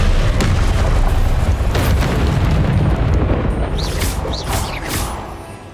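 Fire spell cast in Hogwarts Legacy, a loud sustained roaring burst of flame with rumbling low end, followed by a couple of brief whooshing magical effects as it fades.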